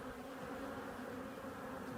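Honeybees buzzing around an open hive during an inspection, a faint, continuous droning hum of many bees with no voices over it.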